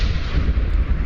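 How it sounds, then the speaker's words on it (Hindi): Missile strikes explode in Donetsk during the Russia-Ukraine war, producing a loud, deep, rolling boom that rumbles continuously for about a second, close and heavy. "सुनिए, जोरदार धमाके हुए।"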